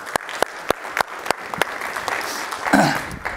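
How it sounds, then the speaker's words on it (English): Applause from a lecture audience at a scientific meeting on NMR and magnetic imaging, starting as a few sharp separate claps that swell into fuller, closer clapping by the end. "I will lead the applause."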